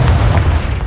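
A Confringo spell bursts in Hogwarts Legacy as a loud, deep boom that rumbles steadily through the whole short moment, close and heavy with no voices over it.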